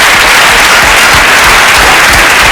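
Studio audience at a French television game show applauding, a dense, steady wash of clapping held loud and close throughout without a break.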